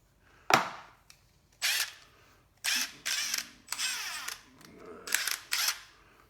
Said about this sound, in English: I'm tightening this bolt down.